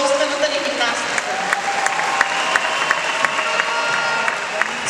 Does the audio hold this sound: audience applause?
yes